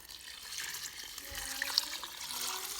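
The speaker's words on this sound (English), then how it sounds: "Add the chicken broth onto the rice" Chicken broth poured over layered rice and vegetables in a pot for maqluba, a soft steady splashing stream that grows a little louder over a few seconds.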